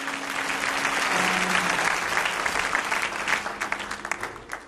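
Church congregation clapping for a preacher, a dense sustained round of applause that thins and tapers toward the end, with no talking over it.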